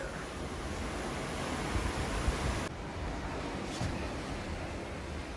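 Rough open-ocean waves roll and wash below a Carnival Mardi Gras cruise ship after a hurricane, a steady broadband roar mixed with wind buffeting the microphone, with no voices.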